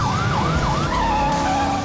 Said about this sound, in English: I need lights and sirens.